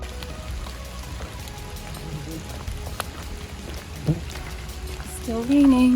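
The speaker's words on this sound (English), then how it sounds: "Still raining." Steady rain patters on a surface along an outdoor trail, a constant soft wash throughout, with a few brief vehicle or movement sounds and a rising tone near the end.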